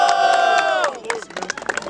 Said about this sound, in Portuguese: barulho pra quem gostou da rima do Muhan